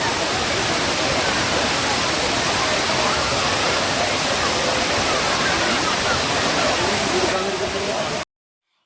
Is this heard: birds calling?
no